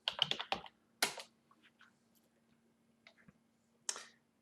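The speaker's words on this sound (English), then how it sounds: "I'll type in email" Keys on a computer keyboard are tapped as an email address is entered, giving sparse, close clicks in short bursts with quiet gaps in between.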